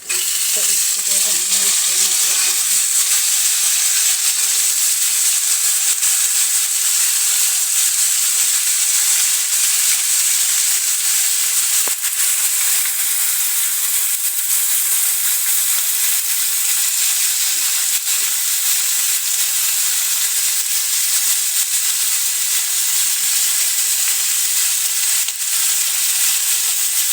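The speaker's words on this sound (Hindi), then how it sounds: "हमारा भुंज का मसाला तैयार हो गया। देखो हम इसे ऐसे ही रन देंगे, ज़्यादा नहीं भूनेंगे" Masala sizzles loudly and steadily while it roasts in a pan, a dense, unbroken frying hiss that stays close and even the whole way through.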